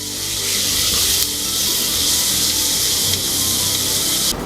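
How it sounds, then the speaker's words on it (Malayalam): Chopped onion with a pinch of salt sautés in a pan for dal khichdi, giving a loud, continuous hissing sizzle close by, with faint scraping underneath and no voices. "അപ്പോൾ നമ്മുടെ സവാള ഇത് ഏകദേശം വഴന്നു"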